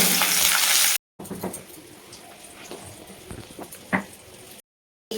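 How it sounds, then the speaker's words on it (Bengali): Small boiled potatoes coated in salt and turmeric frying in oil in a kadai, a close hiss and crackle with scattered pops, broken by two brief silent gaps. "আলুটা তো নুন হলুদ দিয়ে মাখা ভাজছি"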